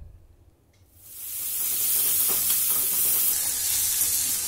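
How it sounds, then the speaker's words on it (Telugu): Cumin, mustard seeds, dried red chillies, chopped onions and curry leaves drop into hot oil for a moong dal curry. After a quiet second a loud bright sizzle bursts up and holds steady up close, with no talk. "ఒక స్పూన్ జీలకర్ర, అర స్పూన్ ఆవాలు, రెండు ఎండుమిరపకాయలు వేసుకుని ఫ్రై చేసుకోవాలి"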